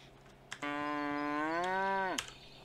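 A single cow in the video game Medieval Dynasty gives one long, loud, close moo lasting about a second and a half, rising slightly before cutting off, with no talking.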